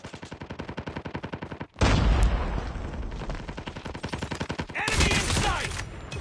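Rapid automatic gunfire in the Call of Duty video game, a steady rattling burst followed by louder dense volleys and a final sharp flurry of shots, close and continuous.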